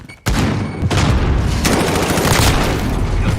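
Loud, continuous video game combat: a grenade blast erupts after a brief quiet start, followed by sustained rapid gunfire and explosions filling the remaining seconds without pause.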